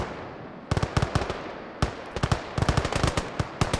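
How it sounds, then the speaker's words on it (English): Artillery and gunfire in a World War I battle game between Italian Alpini and Hungarians, sharp cracking blasts in irregular rapid clusters, some close and loud, over a low distant rumble. "there's a lot of artillery being traded"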